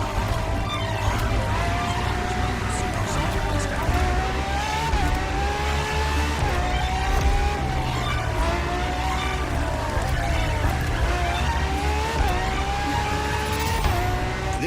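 Ferrari-based FXXK supercar in The Crew Motorfest racing game, engine screaming at high revs with repeated upshifts and steady rising whine, loud and continuous, tires squealing at moments.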